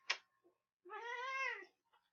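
A small Russian Blue cat lets out a single clear, drawn-out meow close by, after a brief sharp click, in a quiet room.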